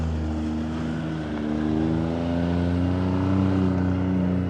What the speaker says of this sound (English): Got a John Deere rolling through.